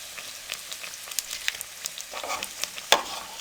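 Chicken and potato shami kebabs coated in gram flour fry in hot oil with a soft, steady sizzle, broken by small crackles and a sharper pop near the end, with no voices.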